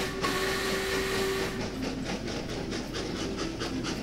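A train rolls past in the Train Valley puzzle game, a steady rumbling hiss with rhythmic wheel clacks and a brief tonal whistle early on, heard alone without talk.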